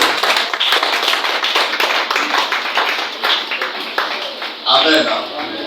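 A church congregation applauding together in a hall, steady dense clapping that continues for several seconds, with a voice speaking over it near the end.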